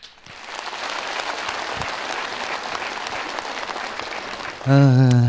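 Steady audience applause greets performers at a Uyghur-language celebrity gala concert, broad and continuous for about four seconds before a loud, close voice with music cuts in over the clapping at the end.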